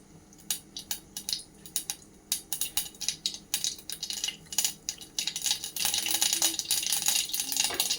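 Mustard seeds splutter in hot oil with dried red chillies and curry leaves, tempering for a brinjal masiyal: sharp, irregular pops and crackles that come in scattered bursts and thicken into a busy, continuous sizzle toward the end.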